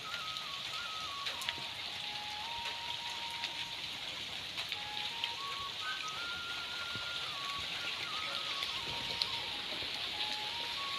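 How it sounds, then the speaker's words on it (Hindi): Steady rain hisses down on surfaces, an even, continuous patter with a faint tonal hum running beneath it. "बारिश आ गई"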